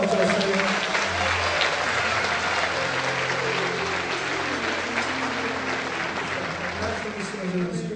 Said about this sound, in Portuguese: Dê um aplauso forte ao Senhor.